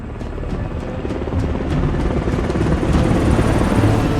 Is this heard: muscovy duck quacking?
no